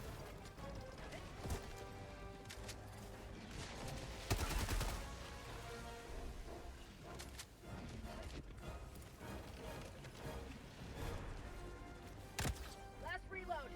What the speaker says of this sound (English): Rockets are going wild this evening.